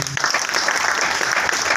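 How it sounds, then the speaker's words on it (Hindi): Loud, dense audience applause at a gathering, many hands clapping together in a continuous burst, close and unbroken. "मैं आप लोगों की जोरदार तालियां चाहूंगा"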